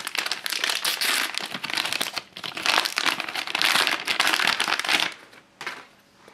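Packaging around a new hard drive being ripped open, loud close crinkling and tearing of plastic in bursts that fade out near the end.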